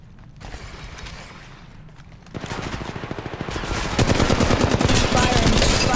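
Gunfire in Apex Legends Mobile, starting faint and distant, then rapid automatic bursts growing louder and denser into sustained close firing, with mechanical clicks and game voice callouts mixed in.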